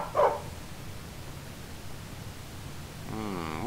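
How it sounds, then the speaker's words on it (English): Dog barking in the video game Skyrim: a single short bark near the start, then quiet game ambience, ending with a drawn-out whine or moan. "Stupid dog."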